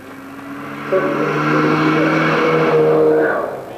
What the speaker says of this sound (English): the villagers became used to the sound of cars racing up low hills late at night